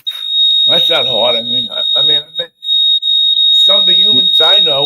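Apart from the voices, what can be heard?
building fire alarm sounding during a test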